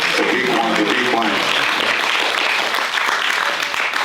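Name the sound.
audience applause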